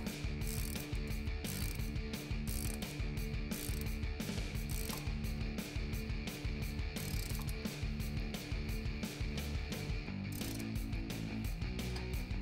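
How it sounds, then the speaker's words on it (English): Ratchet wrench with an 18mm socket tightening a bolt on a Jeep Wrangler JK 3.5-inch lift kit, steady rapid clicking strokes, close and loud with no talking. "we can tighten that down with an 18mm socket and 18mm wrench"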